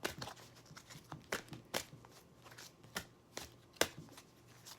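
Tarot cards are shuffled close up in a steady series of soft riffling slaps and flicks, about a dozen quick bursts with no talking.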